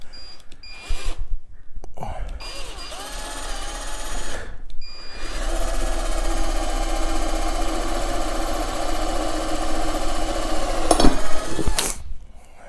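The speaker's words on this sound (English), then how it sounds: "There you go, drill all the way through." A power drill with a sharp bit bores through a metal tube on a miter saw stand bracket, whirring steadily for several seconds after a brief start, then stopping; loud and close, with no talk.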